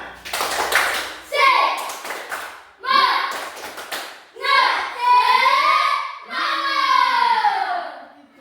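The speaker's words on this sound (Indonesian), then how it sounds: "Ah, tepuk semangat." A classroom group claps a 'tepuk semangat' spirit-clap chant in a patterned rhythm, several short bursts separated by brief pauses, with children's voices calling out between them.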